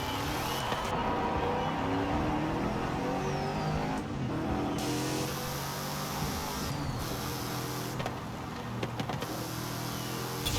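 An Aston Martin DBS GT car driving in the racing game Forza Horizon 5, its engine humming steadily and continuously with brief shifts in tone, loud and close throughout with no talking.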